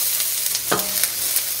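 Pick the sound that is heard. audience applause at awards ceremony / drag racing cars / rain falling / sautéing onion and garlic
sautéing onion and garlic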